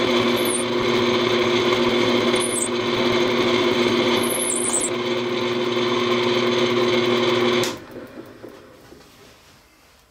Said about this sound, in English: Now you just want to be careful drilling these pilot holes